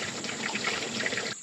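Water drains from the radiator of a 1994 Ford F-150 once the lower radiator hose is pulled, pouring and splashing steadily into a container close by before it cuts off abruptly.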